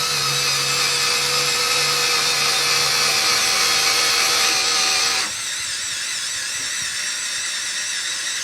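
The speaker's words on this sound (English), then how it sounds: "let's say you want to pre-drill something with the 1/8 of an inch drill bit" An electric screwdriver pre-drills with a 1/8 inch drill bit, giving a steady, close high-pitched motor whine that drops abruptly to a lower, lighter hum about two thirds of the way through, with no talking.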